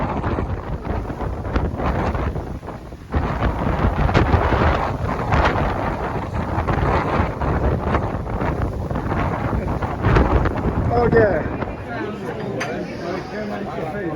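Strong wind buffets the microphone on the coast of Puglia, Italy, a loud continuous roar with gusts, while people talk and chatter underneath.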